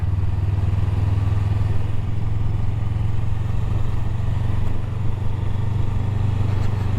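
A Honda Rebel 500 motorcycle rides on an evening street, its engine giving a steady low rumble with constant wind and road noise close by.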